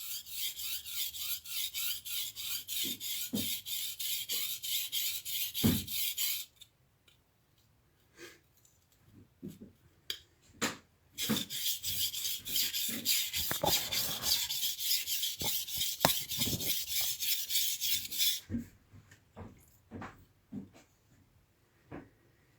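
Knife blade sharpened on a 400 grit stone, rhythmic scraping strokes in two long bursts with quieter taps and handling noise between, close and clear, no talking.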